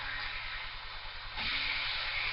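Back bacon frying in a pan, a steady broadband sizzle and hiss that swells a little louder about halfway through, with no talking.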